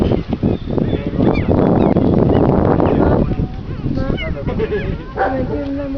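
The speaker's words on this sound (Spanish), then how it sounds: "Ahí viene el perro." Dog barks and yelps come in short bursts amid loud voices and bustle during a firefighter puppy rescue, with people talking throughout.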